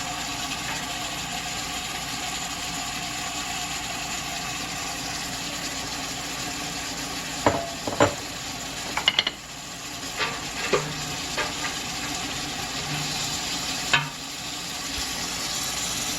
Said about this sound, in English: We're going to dump these onions in.